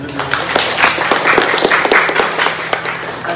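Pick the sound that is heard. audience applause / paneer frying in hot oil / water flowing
audience applause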